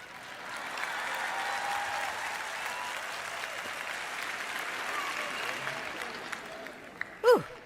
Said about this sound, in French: Si vous allez applaudir, ne vous arrêtez pas à mi-chemin.